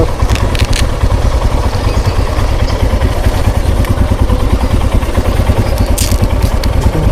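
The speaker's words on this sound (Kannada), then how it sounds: "ಗಾಡಿ ಎಲ್ಲ ಕೋಲ್ಡ್ ಸ್ಟಾರ್ಟ್ ಆಗ್ತಾ ಇದೆ." Motorcycle engine idling loudly and close by after a cold morning start, with a steady, rapid, low pulsing beat and a light mechanical clatter throughout, no voices.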